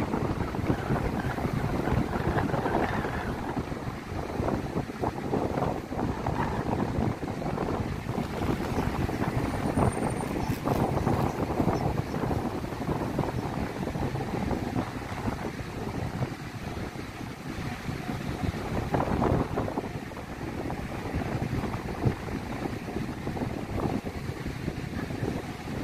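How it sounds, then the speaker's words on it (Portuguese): Strong wind roars steadily across the microphone at Gravatá beach in Navegantes, Santa Catarina, Brazil, with gusty buffeting and a broad rushing noise that may include distant surf; no one speaks. "tá ventando bastante."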